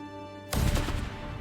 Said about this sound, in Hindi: गोली की आवाज पहाड़ों से टकराकर गूंज उठी